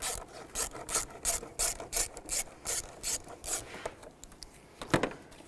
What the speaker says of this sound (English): Loosen up the worm clamp.